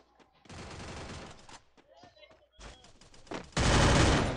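Bursts of automatic gunfire from the Free Fire battle royale video game, two dense volleys separated by a quieter stretch, the last one loud and sustained.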